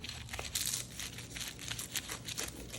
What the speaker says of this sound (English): Gonna cut into this with a pizza cutter.